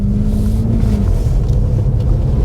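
A rear-wheel-drive car understeers on a slippery surface, its engine rumbling loud and close with a low tone that drops out after about a second, then continued road and wind noise.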